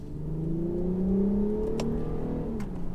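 Infiniti Q50S with a 364 hp V6 from the 350Z, engine revving under acceleration from inside the car, a smooth rising tone held steady for a few seconds with faint clicks.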